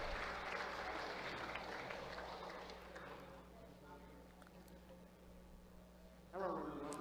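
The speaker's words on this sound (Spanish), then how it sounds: "una ronda grande de aplausos para Johnny Applecourt, damas y caballeros" Applause from a conference audience after a Bitcoin talk introduction on a stage, strong at first and gradually fading into a softer patter before a voice begins.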